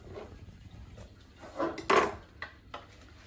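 Cut apples and sugar go into a pan, a few faint, scattered clinks and knocks of pieces and utensils against cookware, close by in a quiet kitchen.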